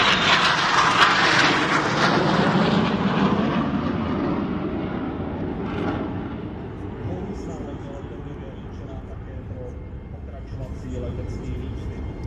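An L-159 military jet flies during an air display, producing a loud broadband roar that gradually fades as it passes into the distance, with a voice speaking over it.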